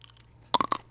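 Someone bites into a crunchy, chalk-like pastel candy close up, giving a quick burst of three or four sharp crunches after a quiet start.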